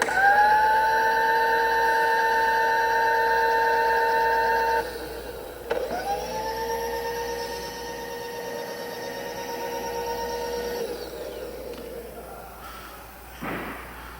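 An XYZ SLV turret milling machine drives its bed in and out, a steady motor whine with layered tones holding for several seconds, dropping and restarting with a slight thump, then winding down at the end.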